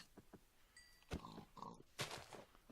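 A pig in Minecraft gives a few short grunting oinks spread over a couple of seconds, along with quick thuds of hits. The sounds are close and quiet, and no one talks over them.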